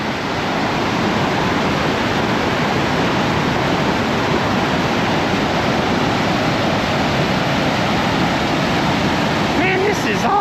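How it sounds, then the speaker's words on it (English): Whitewater roars from a waterfall beside Washington Highway 2, a loud, dense, unbroken rush that holds steady close by for the whole stretch. "Listen through the roar of the water"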